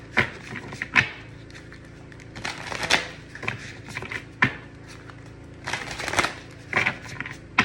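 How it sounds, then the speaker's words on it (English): Tarot cards are shuffled by hand in a quiet room, giving a series of soft riffling bursts and sharp card snaps at irregular intervals, close and moderately quiet. "when I try to shuffle this, okay, so I just pull a few cards"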